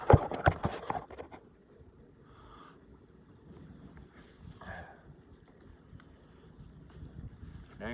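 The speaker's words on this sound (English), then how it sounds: "Dang, wind's starting to try to pick up." Gusty wind rising outdoors, a rough low rumble buffeting the microphone steadily for several seconds after a loud, choppy burst at the start, with faint scattered higher sounds in the background.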